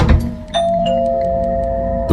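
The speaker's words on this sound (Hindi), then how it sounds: "तो डोरबेल बजी।" A doorbell in a house at night sounds once, a clear sustained electronic ding with a lingering tone across most of the clip, loud and close, with no talk over it.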